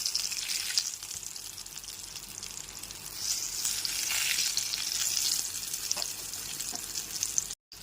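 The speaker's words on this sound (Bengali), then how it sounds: "বেগুনের এক দিকটা লাল হয়ে গেলে পরে অপরপিটে উল্টে ভেজে নিতে হবে" Eggplant slices fry in oil with a soft, steady sizzle that swells a little midway, along with a few light clicks from the pan, all fairly quiet and close by.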